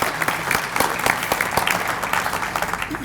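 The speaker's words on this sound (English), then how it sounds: "Big round of applause for JD Meyer with Meyer Law Office." A round of applause for JD Meyer of Meyer Law Office at a business breakfast gathering, close, distinct individual claps standing out over a lighter crowd clapping in an uneven rhythm.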